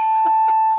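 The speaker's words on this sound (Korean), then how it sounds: "딩동댕 치려다가 땡쳤습니다" A quiz-show bell sound effect on a Korean radio talk program rings as one loud, clear, sustained tone that fades at the end, with faint voices murmuring beneath it.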